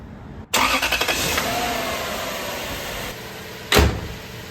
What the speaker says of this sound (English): here goes the cold start